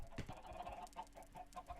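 Minecraft chickens clucking in the video game, a handful of short, close, evenly spaced clucks over a faint steady background hum.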